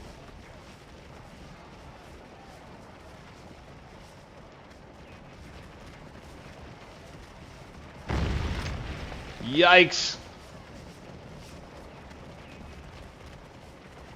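Cannons firing canister shot in the Scourge of War Civil War strategy game at Antietam: a sudden loud boom followed by a whistling, rising burst, over a low continuous battlefield rumble, with a brief spoken exclamation.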